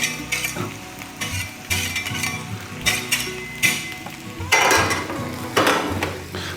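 Ground beef sizzles on a Blackstone griddle as a metal spatula scrapes and turns it over and over, bursts of loud scraping and clinks over a constant frying hiss.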